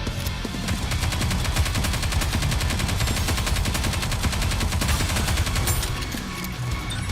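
Dense, continuous rapid-fire gunfire from the video game Nikke, with overlapping bursts and shots crackling loudly throughout without a break.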